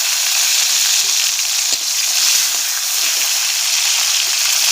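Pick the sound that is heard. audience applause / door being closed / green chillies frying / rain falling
green chillies frying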